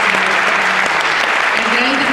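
Brief audience applause for theatre workers, a burst of dense clapping with a voice speaking over it.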